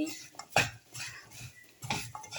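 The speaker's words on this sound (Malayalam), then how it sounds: "നന്നായിട്ട് ഇളക്കി കൊടുക്കുക." A utensil stirs beef pickle in a pan, producing several sharp metallic clanks and scrapes at an uneven pace over a faint background sizzle.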